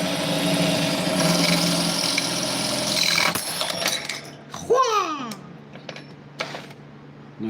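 An electric drill whines and grinds at close range, then slows and winds down, followed by scattered small clicks and clatter.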